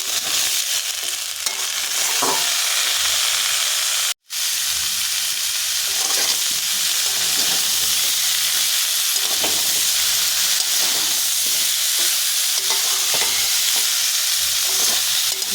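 Spices fried in a pan with fig and potato for a prawn curry give a loud, continuous sizzle close by, with soft scraping from steady stirring throughout and one brief cut in the middle.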